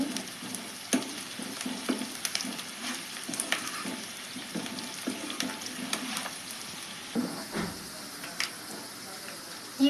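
Onions frying in a pan give off a continuous crackling sizzle, broken by frequent scraping and clacking stirs, close and fairly loud throughout.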